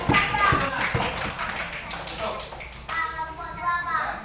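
Schoolchildren in a classroom clapping together for group 1, a run of sharp, fairly close hand claps in uneven rhythm, mixed with children's voices and some shuffling.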